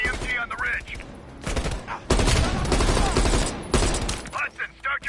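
Heavy machine gun fire from a ridge in the Black Ops Cold War campaign: long sustained bursts of loud rapid shots broken by short pauses, with the surrounding battle sounds in between.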